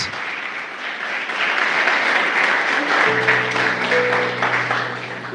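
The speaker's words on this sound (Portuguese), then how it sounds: "Dá uma linda salva de palmas" A church congregation claps in warm, sustained applause during a sermon. Keyboard chords swell in beneath the clapping about halfway through.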